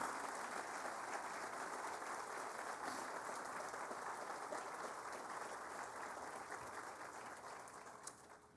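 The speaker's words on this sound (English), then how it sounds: "Let's go ahead and give those partners a round of applause." An audience at the Kalamazoo Event Center groundbreaking applauds in a sustained, even patter of clapping for several seconds, fairly distant and tapering slightly at the end.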